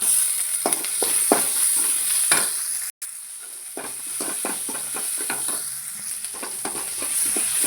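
Tomatoes go into a pan of sautéed chilli and carrot, raising a continuous frying sizzle with clicks of a stirring spoon at irregular intervals and a brief gap partway through.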